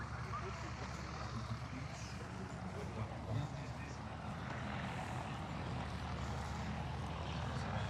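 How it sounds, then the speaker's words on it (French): A Morane-Saulnier MS-317, a French propeller training plane built from 1927, flies over the La Ferté-Alais airshow, its steady engine drone spread wide and moderately loud against a crowded outdoor background. "Alors le Morane Saulnier MS-317, c'est un avion qui est français, un avion d'entraînement."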